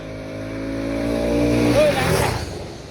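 A motorcycle with its stock silencer, heard close up, revs from a low rumbling idle to a rising roar that peaks and then eases off, with a voice talking over it.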